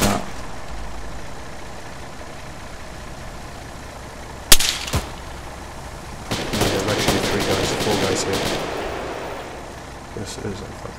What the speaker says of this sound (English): There's two guys shooting at the Strider.